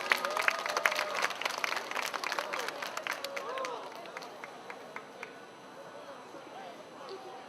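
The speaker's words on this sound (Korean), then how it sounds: "박수 한번 쳐주세요" An audience at a candlelight memorial vigil in Gwangju for Sewol ferry victims claps in a burst of applause that gradually thins out, with a voice speaking over it.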